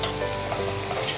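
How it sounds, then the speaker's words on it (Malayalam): Crushed ginger, garlic and shallots sauté in a hot pan, a steady, close, loud sizzle of frying with light stirring throughout. "ഒന്ന് ചതച്ചെടുത്തിട്ട് ഇതുപോലെ വഴറ്റുക."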